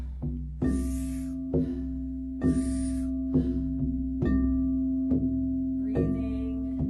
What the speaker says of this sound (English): soft exhale, sounds like this